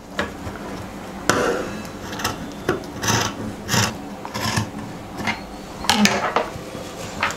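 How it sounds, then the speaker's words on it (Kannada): Scissors cutting through leggings fabric for an alteration, with a string of separate snipping and rasping strokes of varied loudness, close by, with no talking. "ನಾನು ಇಲ್ಲಿ ಕಟ್ ಮಾಡ್ತಾ ಇದ್ದೀನಿ, ನೀಟಾಗಿ ನೋಡ್ಕೊಳ್ಳಿ ಎಜ್ಜು."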